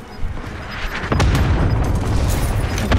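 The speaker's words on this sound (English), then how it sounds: "Mark target for airstrike." In a video game, airstrike explosions land as a sharp burst followed by a dense rumble of overlapping booms and crackling blasts. The barrage grows louder and stays heavy to the end.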